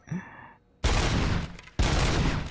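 Video game gun that fires several bullets per shot, two loud bursts of gunfire a second apart, each a dense crack that decays slowly, after a short stretch of quieter game sound.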